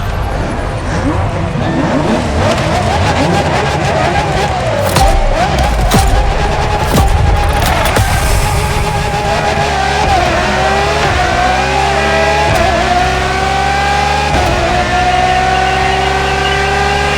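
Ferrari LaFerrari hybrid V12 supercar in The Crew Motorfest racing game, engine roaring and revving continuously at high pitch, rising and shifting through gears, loud and close with brief crackles, under a narrator's voice.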